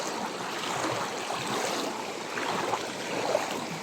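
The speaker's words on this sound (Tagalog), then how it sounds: "kailangan nyo tumawid dito sa ilog" Steady rushing of a river at Mt. Lawad in Bulacan, a continuous broad wash of flowing water without pauses, fairly close, with no voices.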